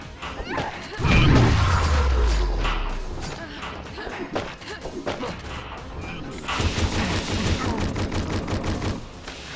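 Video game gunfire during a speedrun, a heavy booming shot with a falling rumble early, then rapid bursts of automatic fire and impacts, loud and close.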